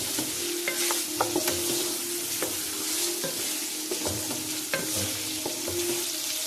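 Aloo mutter gosht cooking in a pan, with a steady sizzle running throughout and a series of sharp clicks and scrapes as a spoon stirs the meat and potatoes, close and moderately loud.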